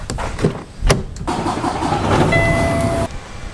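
A pickup truck engine runs and pulls away, a few knocks and clunks giving way to a loud, steady engine drone that cuts off abruptly near the end.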